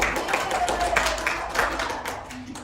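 Scattered light clapping from a small class after a student's presentation, a few sparse claps at close range mixed with faint room noise and brief talking.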